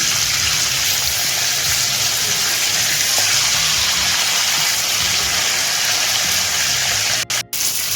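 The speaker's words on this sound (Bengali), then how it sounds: "এক ভাজা হয়ে গেছে এখন আমি উল্টে দিচ্ছি" Prawns fry in mustard oil in a kadai, a loud, dense and continuous sizzle close by, with a brief break near the end as they are turned, and no talking.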